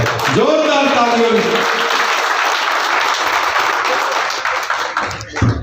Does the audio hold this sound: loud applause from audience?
yes